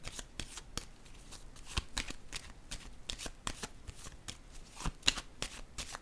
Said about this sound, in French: je vais piger une carte ici pour le rendez-vous